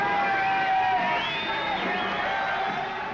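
A crowd of hippies celebrates in a sunny street, a dense wash of many voices with cheers and whoops rising and falling close by for a few seconds.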